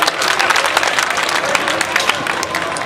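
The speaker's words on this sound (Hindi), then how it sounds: "एक बार जोरदार ताली बजा दो।" Audience at a poets' gathering at the Kalyanji fair in Gangapur City claps loudly and steadily, dense rapid clapping from many hands filling the space without letup.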